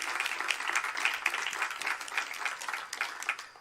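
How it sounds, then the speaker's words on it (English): A public celebration audience claps for the event helpers, a fairly quiet, distant patter of many hands with a few sharper individual claps standing out, sustained throughout. "Let's give all of those individuals a big round of applause."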